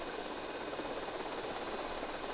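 A helicopter in GTA Vice City gives off a continuous, even rotor and engine drone, a broad steady hum with no pauses, heard alone.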